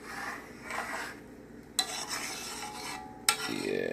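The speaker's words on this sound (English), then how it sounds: "just stirring the pot a little bit" A spoon stirs a bubbling pot of Irish moss in slow, scraping strokes, with two sharp knocks against the pot and a soft simmer underneath.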